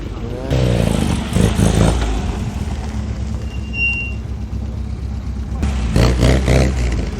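A classic MGB with a slightly bigger rear exhaust box gives a deep, steady engine burble close by, rumbling continuously with voices faintly under it.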